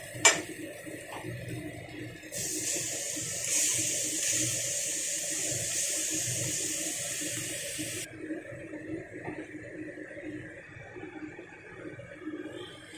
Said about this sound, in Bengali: মিক্সিটা ধুয়ে ঠিক 2 চামচ মতো জল আমি এখানে দিয়ে দিলাম।